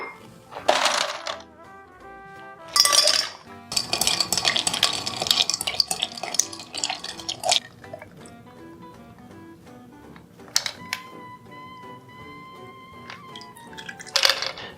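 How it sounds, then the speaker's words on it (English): A Vieux Carré cocktail is stirred with ice in a mixing glass and then strained into a rocks glass over fresh ice, with bright clinks and rattling of ice against glass, short bursts of chiming, and a faint pour. "we'll want to stir that with ice and then strain into a rocks glass with fresh ice"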